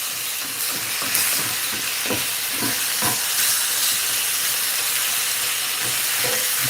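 Onion and garlic sizzle in a hot pan while being cooked for salsa, a steady loud hiss and crackle with occasional stirring scrapes throughout, no voices.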